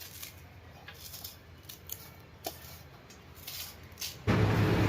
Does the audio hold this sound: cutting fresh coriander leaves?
yes